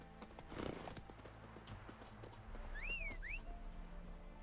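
Geralt's horse Roach runs in The Witcher 3, its hooves sounding a continuous drumming clip-clop at moderate distance, with a brief high chirping call passing over it.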